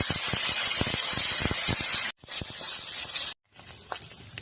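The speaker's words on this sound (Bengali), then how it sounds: "এবার আমরা নুন হলুদ মাখানো মাছগুলো একে একে ছেড়ে দেব।" Turmeric and salt coated fish sizzle and spit loudly in hot oil in a wok, a dense steady hiss with crackles that briefly cuts out twice.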